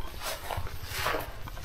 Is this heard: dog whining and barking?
yes